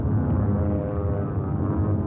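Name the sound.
WWII bomber aircraft flying with one engine shot out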